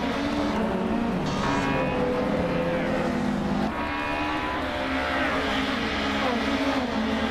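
Racing video game cars roar off the line at a Rio de Janeiro start, a 1991 Vauxhall Cavalier among the pack, with loud continuous engine drone and shifting revs filling the whole stretch.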